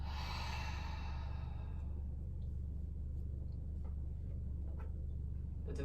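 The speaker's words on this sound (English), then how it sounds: "And exhale." A slow, steady exhalation during floor yoga breathing, a broad breathy hiss fading over about two seconds, then quiet with a low steady hum underneath.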